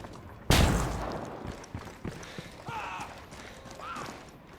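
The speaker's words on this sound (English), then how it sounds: "throwing a flashbang" A flashbang grenade going off in the video game Ghost Recon Wildlands, a single sharp close burst followed by a ringing tail, with scattered thuds and faint voices after.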